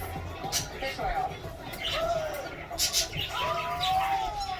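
A pet bird coos softly and lets out scattered chirps and tweets, the calls coming in short bursts over a murmur of background chatter.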